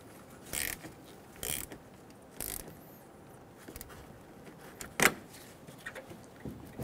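Ratchet snugging down the negative battery cable nut on a 2005-2015 Toyota Tacoma 2.7L L4, a few short clicking bursts of ratcheting close by, separated by quiet gaps and lighter handling noises.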